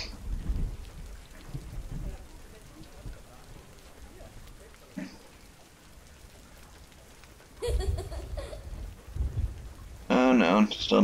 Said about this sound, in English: Go see the rainforest when it rains.